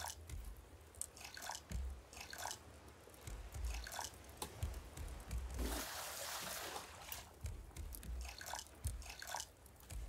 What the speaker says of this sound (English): So let's water them.